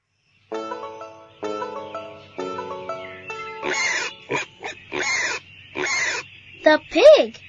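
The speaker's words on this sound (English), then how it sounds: "The pig." A pig grunts and oinks in several rough, noisy bursts following a short musical passage, closing with a higher squeal, as part of a children's farm-animals story.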